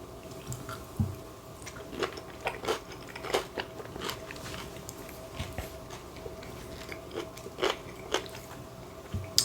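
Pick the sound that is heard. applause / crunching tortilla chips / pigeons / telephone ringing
crunching tortilla chips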